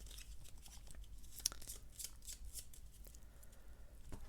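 A deck of cards for the Dungeonquest board game is shuffled close by, with continuous soft riffling, flicking and papery rustling over several seconds and one sharper snap partway through, with no talking.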